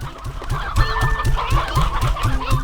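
Painted hens in the video game Slime Rancher 2 cluck steadily in a rapid, rhythmic series of close, loud calls with faint higher chirps, and no talking.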